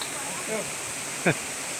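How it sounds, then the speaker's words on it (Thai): A forest waterfall roars as a steady, full hiss of rushing water, close and constant, while someone speaks briefly over it. "ดูนะฮะน้ำตกนะฮะ"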